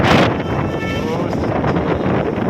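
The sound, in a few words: strong dusty wind in Bengaluru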